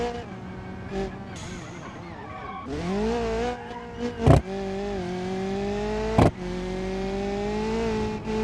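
A rally car in BeamNG.Drive slides and skids through a corner on Baja hill stages, with engine revs climbing, sustained tire squeal and sharp exhaust pops cracking loudly a few times.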